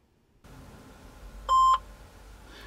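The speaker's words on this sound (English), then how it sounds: "That was the transmit beep." A single short transmit beep from a Kenwood TM-D710G APRS mobile radio, a steady electronic tone lasting about a quarter second, sounding alone over a faint background hiss.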